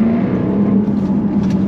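The supercharged V8 of a Jaguar F-Type SVR held at about 3000 rpm, a loud, close, continuous growling roar that hums steadily throughout with no talking.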